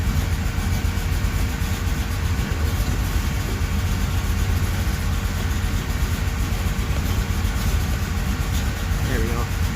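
A 1977 Chevy Camaro engine idles steadily at about 650 rpm, a continuous low, even rumble that holds for the whole stretch without revving.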